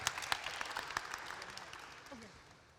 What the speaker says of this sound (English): give the ladies another round of applause